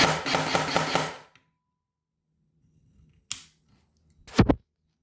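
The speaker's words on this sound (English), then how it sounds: "When I go into semi, it's gonna work as usual, like every semi-automatic gun does." Specna Arms SA-E06 EDGE 2.0 airsoft rifle with HAL2 mosfet fired on semi-automatic: a loud burst of rapid mechanical rattling at the start, then two separate sharp single shots, near and clear with quiet gaps between.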